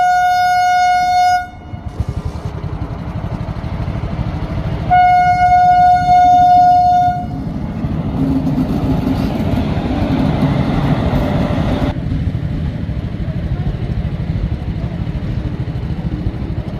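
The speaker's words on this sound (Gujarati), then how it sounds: "ધીરે ધીરે ટૂંકી ડગલીએ આવી ગઈ ફાઇનલી ટ્રેન" A train arrives at a level crossing, sounding loud sustained horn blasts twice with a rumbling, rattling run of wheels and cars passing close by continuously underneath.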